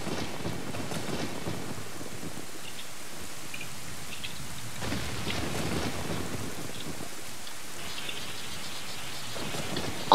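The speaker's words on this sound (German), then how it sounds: "Es donnert." Rainy, stormy weather in Zelda: Ocarina of Time: constant patter of rain throughout, with a few soft, distant thunder rumbles rising and fading.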